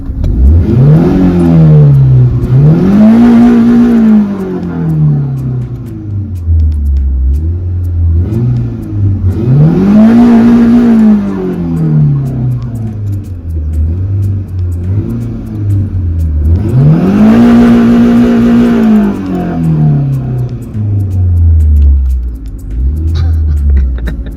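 A 2009 Volkswagen Citi Golf engine revs up hard three times, each rev climbing and falling back to a rumbling idle between bursts, loud and close.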